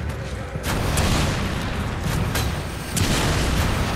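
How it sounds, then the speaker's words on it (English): Explosions and gunfire in the video game Resident Evil 5, a dense continuous roar of blasts with repeated booming bursts, loud and close, filling the whole stretch without pause. "I can't see anything because of explosions."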